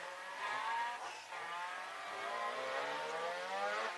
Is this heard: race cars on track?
yes